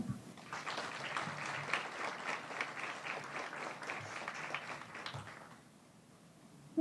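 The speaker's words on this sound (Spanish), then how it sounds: "Les pido para él un fuerte aplauso." Audience applause at a forum on dignified maternity, steady dense clapping from a seated crowd lasting several seconds before fading out near the end.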